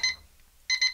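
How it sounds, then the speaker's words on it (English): An egg timer rings in short, bright metallic bursts, one at the start and another run near the end, separated by a brief quiet gap. "And there's the egg timer."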